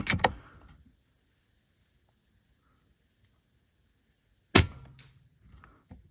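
Rifle fired during a scope comparison test at a range, two sharp loud cracks several seconds apart with short ringing tails and near silence between them.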